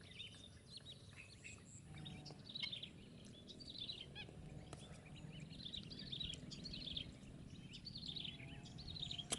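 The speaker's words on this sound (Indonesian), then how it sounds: "The sound of birds in nature is so harmonious, soothing and happy to hear." Small birds chirp and trill in scattered bursts over a steady outdoor hum, calls coming from moderate distance with no voices.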